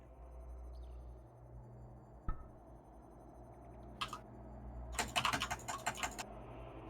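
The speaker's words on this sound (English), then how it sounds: "We're hearing keyboard and mouse and stuff." Computer keyboard and mouse clicking, quiet at first with a single click, then bursts of rapid typing and clattering keys close by, faint overall with no speech.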